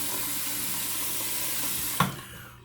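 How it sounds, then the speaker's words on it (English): Tap water runs steadily into a sink while someone rinses off after a straight-razor shave with lime soap, a close hiss that cuts off abruptly near the end. "Get rinsed off."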